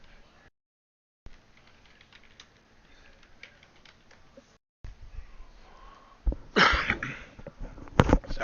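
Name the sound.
cough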